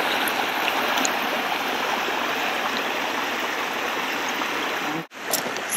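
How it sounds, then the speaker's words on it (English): A small babbling brook on a rural property runs steadily and close by, a continuous rushing trickle that feeds down into water features, with a brief dip in the flow near the end. "from the start of the water with the little babbling brook, it goes all the way down and feeds into all these different water features"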